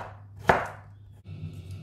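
Slicing fresh ginger with a knife on a cutting board, a single sharp chop followed by quiet board noise.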